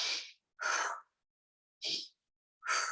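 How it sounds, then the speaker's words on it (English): Slow, deliberate breaths drawn in and let out through the nose and mouth in a quiet room, four close, airy bursts alternating with pauses of silence. "just connect with your breath in and out"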